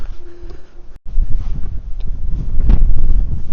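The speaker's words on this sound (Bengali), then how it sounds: "এখানে বাতাস বইতেছে" Strong wind buffets the microphone on a stormy Japanese seashore, loud low rumbling gusts that swell and surge continuously, with a brief dropout near the start.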